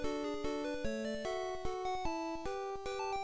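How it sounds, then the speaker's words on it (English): Original Tetris Game Boy soundtrack: plucky, harpsichord-like chiptune playing a stately minuet melody, each note struck with a sharp attack and brief decay, moderately paced and without talking. "The first soundtrack for Tetris sounded like this."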